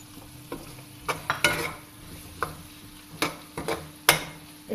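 Chicken mixture with green coriander being stirred in a pan: a soft frying hiss under irregular scraping and tapping strokes of a spoon against the pan, close and fairly quiet, with no voices.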